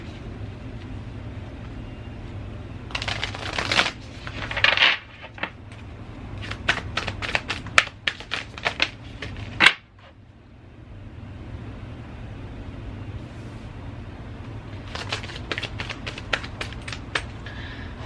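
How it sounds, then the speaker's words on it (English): Tarot cards laid out by hand for a Sagittarius reading, heard as bursts of crisp flicking and soft card slaps in clusters with pauses, close and moderately quiet over a steady low background hum. "I'm gonna lay out your cards a little bit"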